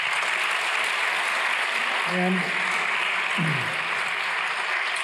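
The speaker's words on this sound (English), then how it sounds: "Let's have a round of applause for Mohsin Hamid here." Audience applause for author Mohsin Hamid at a book event, a steady broadband clapping wash filling the whole clip with a brief spoken word near the start.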